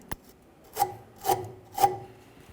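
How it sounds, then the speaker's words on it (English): A wire brush scrubs a brake line bracket on a 1999-2006 Chevrolet Silverado 1500 with three short, evenly spaced strokes after a faint tap, close and distinct against near silence. "Let's use a wire brush for this."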